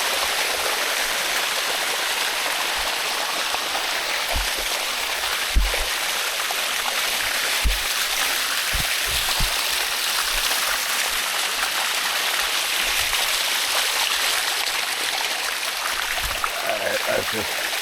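Water rushes down a smooth natural rock water slide near Chiang Mai, Thailand, a steady close hiss of flowing water with occasional low thumps and a few faint voices under it.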